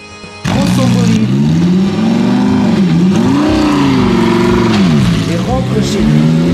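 Sports car pulling away, a loud engine roar that bursts in after a brief quiet start, its pitch rising and falling as it revs through gears, close and sustained.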